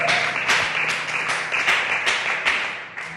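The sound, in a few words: church congregation applauding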